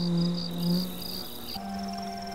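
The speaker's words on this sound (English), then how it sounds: "irritating flies are buzzing" Flies buzz steadily around a guard hornet in hot summer weather, a close, continuous drone with shifting pitch that changes tone partway through.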